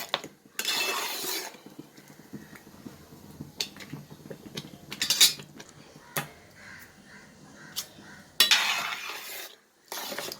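Jackfruit jam cooks down with jaggery as a spoon scrapes and stirs the pan in a few loud bursts, between quieter moments and light clinks, while a crow caws in the background.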